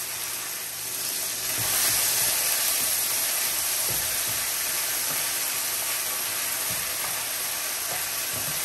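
Minced garlic hits a hot pan for beef lo mein, setting off a bright, steady sizzle that swells after a moment and holds on continuously, with faint clicks of utensils beneath it.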